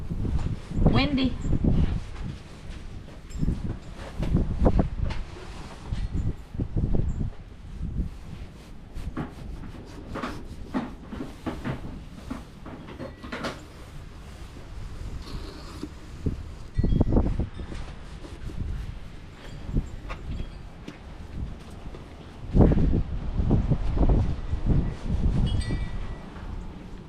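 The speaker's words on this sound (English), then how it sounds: "Windy." Wind buffets a microphone outdoors on Topsail Island, North Carolina, in gusty low rumbles that swell and fade throughout, with muffled voices beneath.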